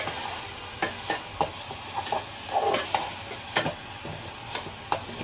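Soft sizzling of lentils frying in a pan, punctuated by several sharp scrapes and clinks of stirring at irregular intervals.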